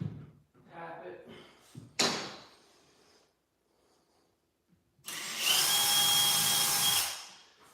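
Power drill pre-drilling holes through a cheaply painted interior door, a loud sustained whir of about two seconds near the end, after short bursts and a knock earlier on, with someone talking at the start.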